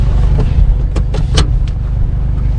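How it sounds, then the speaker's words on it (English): Toyota Hilux N70 pickup driving after a clutch replacement, a steady low road and engine rumble throughout with a few brief clicks and knocks from the cabin, fairly loud and close. "Now we're going to go for a drive to prove that it actually works."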